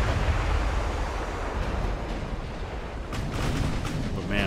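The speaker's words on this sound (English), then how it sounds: "So now my 8-inch guns are opening up" Heavy 8-inch naval guns fire in a steady rumbling barrage over a broad roar like sea and wind during a Ultimate Admiral: Dreadnoughts battle, loud and continuous with sharper blasts near the end.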